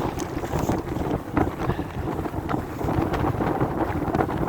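Strong gusting wind buffets the microphone on an exposed mountain ridge near Catstycam on Helvellyn in September, a steady loud roar with rising and falling gusts and no voices.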